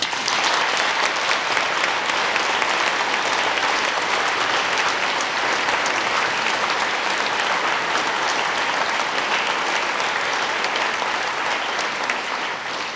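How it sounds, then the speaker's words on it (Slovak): A folk festival audience breaks into dense, sustained applause for the performers of singing, dancing and music, a loud, even wash of many clapping hands lasting the whole stretch without talk. "Váš úžasný potlesk během vystoupení a teďka opravdu patří všem účinkujícím"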